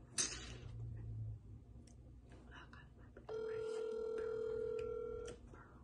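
A phone ringtone sounds in a steady sustained tone for about two seconds in the second half, loud and close, while a voice speaks faintly in the background.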